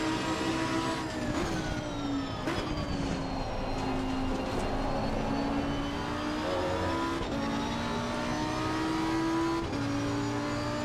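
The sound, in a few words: Porsche race car passing on the outside at Bathurst, racing video game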